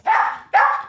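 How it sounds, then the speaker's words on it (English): A terrier gives two sharp, close barks in quick succession, loud and clear with nothing else heard. "he'll bark in the front room so he's heard a bang"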